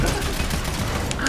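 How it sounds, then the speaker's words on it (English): Turret in a video game firing a continuous rapid fusillade, dense and loud throughout the short moment, with no pauses between shots. "I got a turret now"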